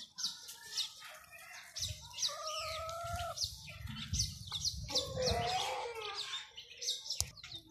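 Australorp hens in a poultry setting, making repeated clucks and chirpy calls at close range, with occasional wing flaps and a sharp knock near the end.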